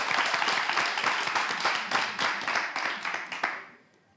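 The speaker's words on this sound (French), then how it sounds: "est-ce qu'on peut applaudir pour l'emmener jusqu'ici" An audience claps to welcome a young woman up to the front, giving dense, lively applause that holds strong for several seconds before thinning out and fading near the end.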